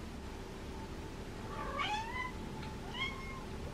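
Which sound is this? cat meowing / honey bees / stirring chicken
cat meowing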